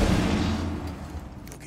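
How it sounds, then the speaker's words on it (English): An EMP grenade going off in the Rainbow Six Siege video game gives a loud, dense burst of noise that starts at full strength and slowly fades over under two seconds. "Tossing EMP grenade"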